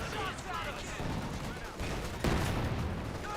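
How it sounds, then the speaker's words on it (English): .50 cal machine gun firing in Company of Heroes 2, a dense rattling burst under battle noise, with a sharp louder impact near the end. "50 cal firing away"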